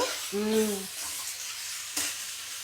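Vegetables including peas fry in a pan for poha egg fried rice, giving a faint, continuous sizzle, with a brief tonal squeak and one sharp clink from the utensil.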